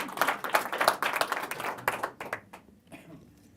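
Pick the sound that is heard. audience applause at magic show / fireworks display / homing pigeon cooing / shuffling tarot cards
audience applause at magic show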